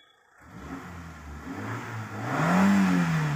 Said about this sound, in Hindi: ये देखिए हाफ सेल्फ में गाड़ी स्टार्ट हो गई है।